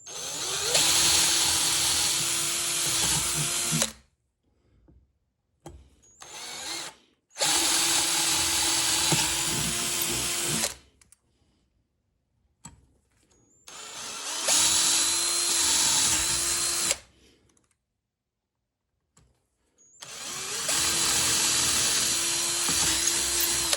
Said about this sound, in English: a nice straight drill, pilot holing